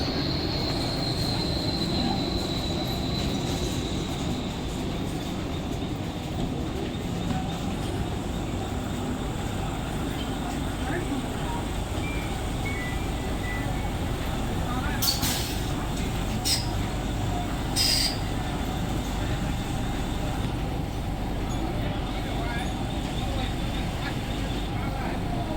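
Mumbai slow local train bound for Kalyan pulling into a station platform, a steady close rumble of rolling wagons with brief high wheel squeals near the end and crowd murmur underneath.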